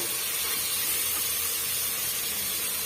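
Chopped tomatoes sauté in a hot pan for a gram-flour Bombay chutney, giving off a steady, even sizzling hiss that stays close and unbroken throughout.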